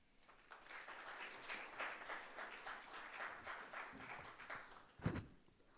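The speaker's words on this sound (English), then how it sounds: "let's put a huge round of applause for Mr. Lakshmi Venkat" An audience at a corporate show gives a round of applause, a steady clatter of many hands lasting several seconds before fading, with a brief thump near the end.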